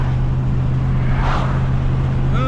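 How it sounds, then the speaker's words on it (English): A small car passes by outdoors, a brief swelling whoosh rising and fading over a steady low background hum, with no talk. "What's that little car?"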